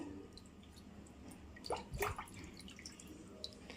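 Cut fish pieces rinsed in water while making fish kulambu, with soft splashing and dripping that peaks in a short burst of sloshing near the middle, quiet and close.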